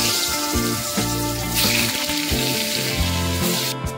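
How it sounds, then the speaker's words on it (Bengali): Potatoes rubbed with salt and turmeric fry in hot oil in a wok, giving a constant close sizzle and bubbling under a low steady hum. "কড়াইতে আমার তেল গরম হয়ে গেছে, এবার আলুগুলোকে আমি ভেজে নেব।"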